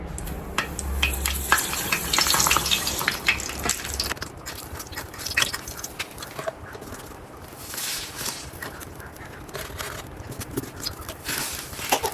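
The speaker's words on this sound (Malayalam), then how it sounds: "പപ്പടം കാച്ചാനായിട്ട് പോവാണ്" Pappadam frying in hot oil, with a busy crackling sizzle throughout and faint clicks of a utensil, heard close and fairly soft, with no voices.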